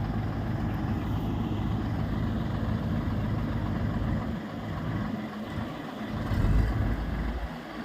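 A car engine runs with a steady, throaty drone that surges louder and deeper near the end as it is revved, with no voices over it.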